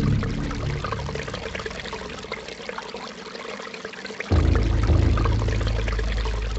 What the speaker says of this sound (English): I assumed it was water trickling from there